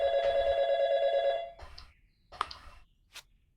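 A telephone ringing in the video game YIIK: a loud electronic ring tone repeating rapidly for about a second and a half, then stopping, followed by a few faint clicks and blips.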